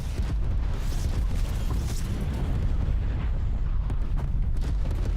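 Loud, dense combat din from a video game firefight involving a thermal sniper: continuous booming, rumbling blasts and bursts of gunfire with no clear gaps, near and heavy throughout.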